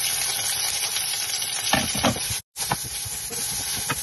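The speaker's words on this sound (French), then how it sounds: "Nous allons faire revenir les oignons." Onions sautéing in a frying pan, a steady close sizzle with clicks of stirring and a brief cut to silence midway before the frying resumes.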